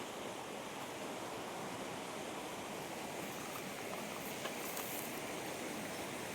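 A forest stream flows out from inside a hill, a steady broadband rush of running water that holds an even level throughout with no voices.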